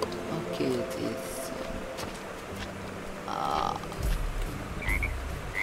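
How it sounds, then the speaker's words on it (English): Video game frog croaks repeat in short bursts against a busy, steady swamp ambient bed, with a brief chirping tone and a thumping sound partway through. "there are frogs here?"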